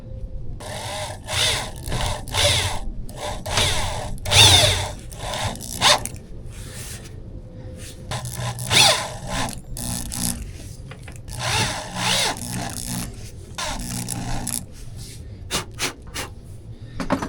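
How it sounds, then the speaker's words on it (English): Self-tapping screws are driven to mount a light bar on a Toyota Tacoma, giving close, intermittent bursts of drilling and grinding with rubbing and scraping between them, repeated several times. "Got self-tapping screws. We'll see if they self-tap."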